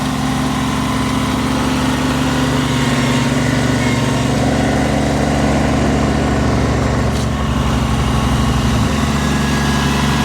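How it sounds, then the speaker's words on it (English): A small Kubota tractor's diesel engine idling, a loud, close, steady rumble with an even throbbing beat that holds unchanged, then drops slightly in pitch near the end. "It's got this little Kubota. It's an interesting little tractor."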